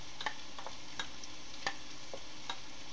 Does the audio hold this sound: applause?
no